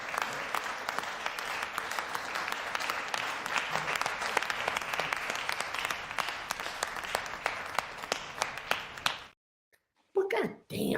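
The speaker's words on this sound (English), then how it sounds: "I'm going to have to take the golf clap from you." Soft, polite golf-clap applause from a small group patters on for several seconds, stops abruptly into silence, and a voice briefly speaks at the end.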